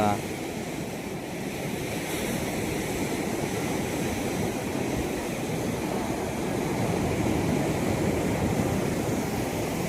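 Sea waves wash against the Dutch-era Vattikotta sea fort: a steady, loud broadband surf roar with wind mixed in, continuous for the whole stretch.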